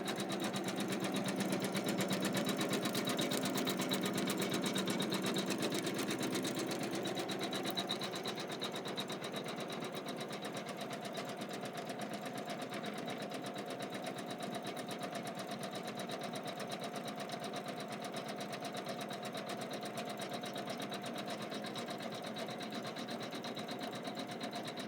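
A Kimberbell embroidery machine stitches a quilted mat, its steady motor whir and rapid needle chatter running continuously, louder for the first several seconds and then settling into an even, slightly quieter hum.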